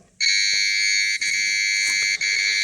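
A loud, piercing electronic alarm tone from a Geiger counter dosimeter radiation alarm sounds continuously, with two brief dips in the middle, over faint background noise.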